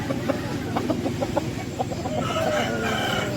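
Patti breed fowl on a farm give a series of short, close clucks, followed by a longer drawn-out crow, while a voice talks faintly in the background.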